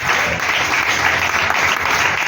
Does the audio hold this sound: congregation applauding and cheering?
yes